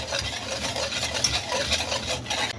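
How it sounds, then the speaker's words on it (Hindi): A spoon stirs a cocoa mixture cooking over a flame in a pan, giving a steady close scraping and soft bubbling texture throughout with no voices. "अब इसका फ्लेम ऑन कर दें और अभी मिक्स करते हुए इसे कुक करें।"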